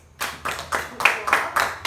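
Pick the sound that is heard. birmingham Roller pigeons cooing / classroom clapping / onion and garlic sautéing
classroom clapping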